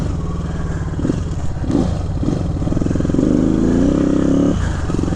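A 1975 Moto Morini 3½ 350 motorcycle being ridden, its mid-pitched engine running steadily and close, with a rising rev toward the end as it pulls harder.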